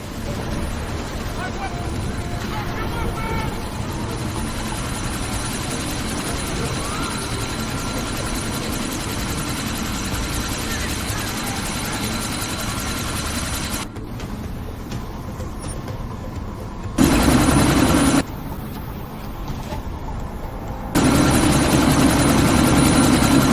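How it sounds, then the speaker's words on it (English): A helicopter takes off in the video game Deus Ex: Mankind Divided, its engine and rotors a loud, continuous drone that shifts and surges partway through, with voices briefly heard over it. "That chopper's about to take off!"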